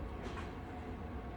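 Night train climbing through the Alps, a low, muffled rumble of wheels and carriage heard from inside, soft and steady with faint rhythmic undertones and no talk.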